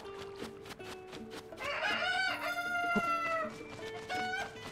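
Chickens in Zelda: Tears of the Kingdom cluck and call in a lively run, one drawn-out squawking call rising over repeated short clucks, near and clear over steady game ambience.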